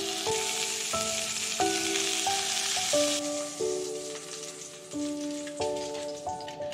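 A barracuda fish fillet searing in a hot pan gives a steady, close sizzle and crackle throughout, under gentle background music with sustained tones, and no talking.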